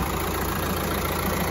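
Engine of a Mercedes B180 Sport AMG automatic idling, close and fairly loud as a steady, even hum with no speech.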